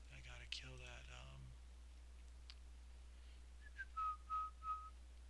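A person whistles a short melody up close in a quiet room, with several clear tonal phrases at the start and a few more whistled notes near the end.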